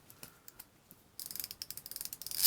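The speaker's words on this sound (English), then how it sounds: "I don't even really see this moving as we turn the ratchet much at all" A Vessel wood-composite-handle ratchet wrench clicking, sparse single clicks at first, then a quick steady run of sharp ticks that grows louder near the end.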